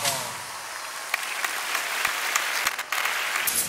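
An audience applauds at a Christmas dance academy show, a dense, loud burst of clapping sustained throughout with occasional sharper claps standing out.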